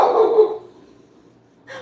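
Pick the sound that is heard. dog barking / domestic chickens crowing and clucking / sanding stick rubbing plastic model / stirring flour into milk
dog barking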